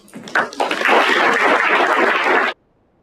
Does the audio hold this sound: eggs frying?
no